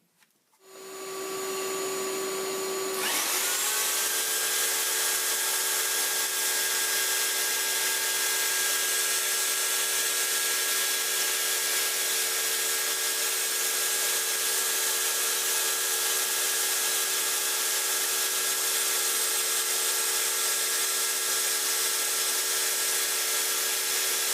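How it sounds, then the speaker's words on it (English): A router cutting out wood for a wooden phone amplifier, after 2.5-inch holes were drilled: a motor whine spins up, then a loud, steady, high-pitched roar of cutting holds for about twenty seconds, close and unbroken, with no talking. "I'm going to go ahead and route the rest of it out now"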